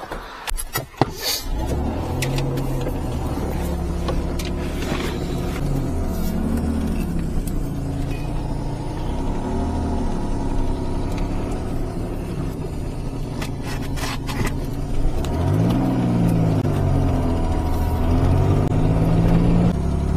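A Pontiac Fiero GT engine, an inexpensive used car, idles and revs steadily in a driveway, with a low continuous rumble and a few rising and falling swells in pitch toward the end.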